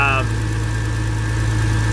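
A 2002 Porsche Boxster S with a MagnaFlow exhaust idles steadily after a cold start, a loud, even low rumble with a constant hum, close by and without pauses.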